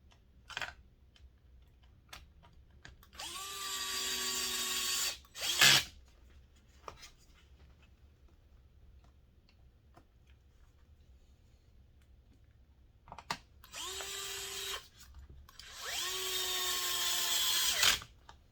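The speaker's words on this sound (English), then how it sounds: "And screwing your lid on." A power drill drives the screws of a lid on an HB Racing RC car radio tray in four separate whirring bursts with rising pitch, each ending in a click, and quiet handling sounds between bursts, with no talking.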